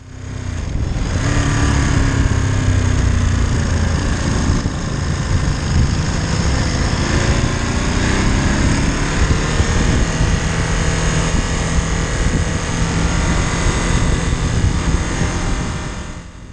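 A 2023 Ducati Monster motorcycle is ridden on the road, its engine a continuous droning roar blended with heavy rushing wind, loud and close throughout with no talking.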